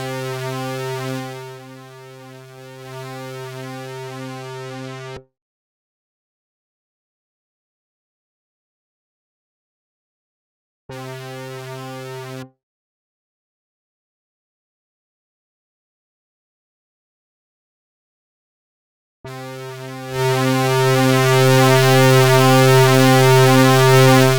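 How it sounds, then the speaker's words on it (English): A sustained harmonic synth tone with gritty, saturated distortion from the saturation control of the HoRNet Chorus60 vintage analog chorus plugin plays in several bursts separated by silence, the final section louder and brighter. "We can try to distort the unit with the saturation on"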